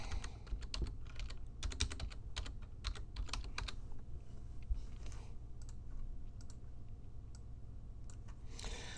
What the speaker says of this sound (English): let me see if I can type this in.